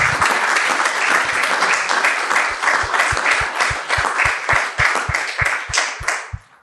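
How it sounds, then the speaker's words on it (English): A lecture audience applauds after a talk by Singapore's former foreign minister at the Danube Institute, sustained loud clapping that thins toward the end, fairly close and with no voices over it. "the audience didn't have to ask to applaud you. They did it spontaneously"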